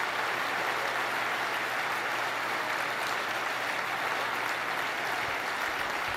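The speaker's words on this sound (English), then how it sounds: "just want to give them another big round of applause" Sustained audience applause and cheering for athletes and performers at a large tech keynote, a dense, constant roar of clapping from a big crowd that holds steady the whole time.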